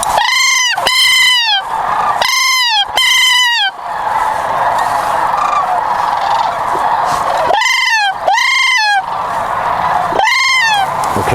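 Sandhill cranes call loudly during a youth crane hunt, giving repeated rattling, trumpeting bursts in clusters with short gaps. A steady outdoor background hiss runs beneath the calls, and no one speaks.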